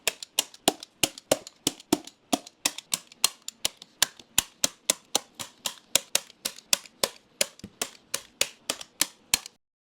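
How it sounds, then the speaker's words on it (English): Staple gun fired repeatedly into material on a DIY portable pitching mound, giving a rapid, steady series of about thirty sharp, loud clacks close up over ten seconds with no talking. "what I'm going to do is fold this over and put staples here and then just staple the whole thing after I unfold it"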